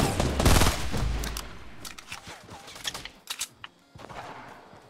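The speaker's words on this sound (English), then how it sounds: "I hear shots up there, but it seems far away." Gunshots in Fortnite ring out far off as a loose volley of quick pops and cracks, dense at first and then thinning into scattered shots with short gaps between them.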